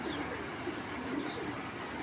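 Soft, low cooing from racer pigeons murmurs steadily through a continuous background hiss, with no voices present.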